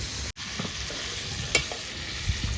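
A pot of Aagri-style chicken curry is mixed over a wood-fired stove, giving a few scattered scrapes and knocks of a spoon over a steady sizzling hiss, with no voices.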